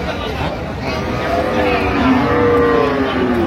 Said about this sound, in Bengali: গাভী বাছুর আমরা দেখছিলাম এখানে, দাম চলছে